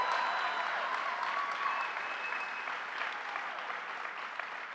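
A crowd at a minimum wage campaign rally in Westbury, New York applauds with steady, dense clapping that holds for several seconds and then eases slightly.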